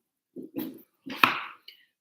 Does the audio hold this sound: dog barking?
yes